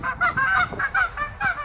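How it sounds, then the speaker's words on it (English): A pair of geese honk loudly and close in a rapid, escalating series of repeated calls just before lifting off and flying away at breakfast time. "a conversation that begins with an escalating series of honking that culminates in their lifting off the ground and flying away"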